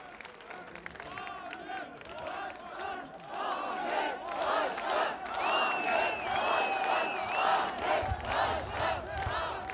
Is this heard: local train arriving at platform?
no